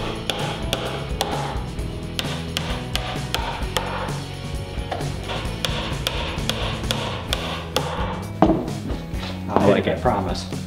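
Hammer taps driving finishing nails into a small trim piece on a barn wood bench, a series of sharp knocks spaced irregularly over the whole stretch, with louder strikes near the end and a voice speaking at times.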